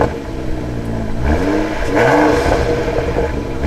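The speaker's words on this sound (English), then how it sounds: "Although the N55 is down on power, it does sound nice." A BMW X6 35i with the N55 engine and stock muffler revs twice, its pitch climbing and falling in smooth sweeps over a steady idle, close and clear.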